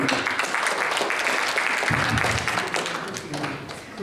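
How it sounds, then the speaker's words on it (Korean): Steady applause from a lecture audience welcoming a speaker, a dense wash of clapping that continues throughout, with some murmuring voices mixed in. "큰 박수로 환영해 주시기 바랍니다."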